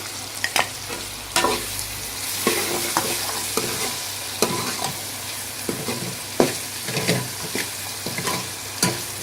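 Chopped tomatoes and green chillies frying in masala for a potato and spinach curry, with a loud steady sizzle broken by repeated scraping stirs of the spoon through the pan, close up and with no talking.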